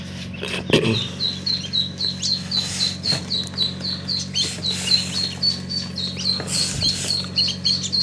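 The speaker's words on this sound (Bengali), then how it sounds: "এই বাচ্চাটা শুধু পেশি হাঁস" Many small Muscovy duckling chicks peep continuously in rapid, high-pitched repeated chirps, close by, with faint rustling underneath.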